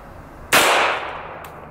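A single sharp gunshot from a .45 ACP pistol firing a 230-grain full metal jacket round into a solid lead block, close and loud, with a brief decaying ring afterward and nothing else around it.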